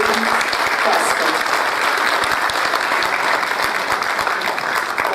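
Sustained applause from an audience at a formal Brazilian heraldry and humanities ceremony, a dense, even wash of clapping that holds steady for several seconds, with voices faintly mixed in.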